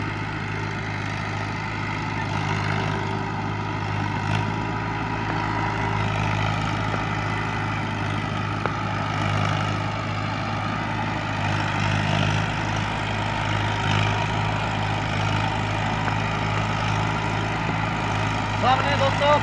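A Mahindra Arjun 555 DI tractor hauls a fully loaded trolley weighing 170 quintals up a ramp, its engine droning loud and steady throughout with a constant low hum and chugging texture.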